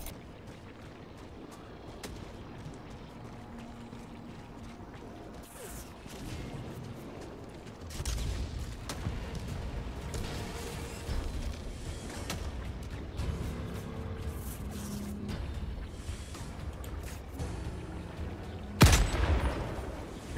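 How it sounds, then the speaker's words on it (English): Sustained heavy machine gun fire rattles through a Helldivers battle, bursts mixed with explosions and booms at a moderate level, with a sharp loud blast near the end. "Request heavy machine gun."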